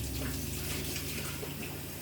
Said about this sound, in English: And I have to wash my tomatoes.